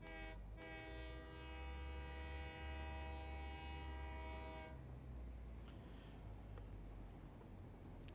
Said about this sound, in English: we can get in the train now